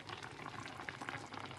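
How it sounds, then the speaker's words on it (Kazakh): Beshbarmak boils in an uncovered kazan, giving a soft, steady bubbling and light spattering that stays quiet and continuous, with no talking. "Қайнап жатыр."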